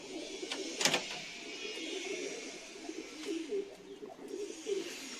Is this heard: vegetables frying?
no